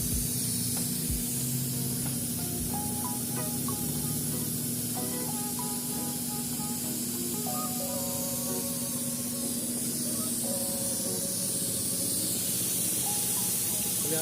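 Steady hissing suction as dirt is vacuumed from a Nissan Serena C24 engine bay, a continuous airy rush lasting throughout with a constant hum and faint clicks beneath, no one talking over it.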